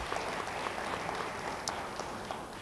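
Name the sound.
church congregation applause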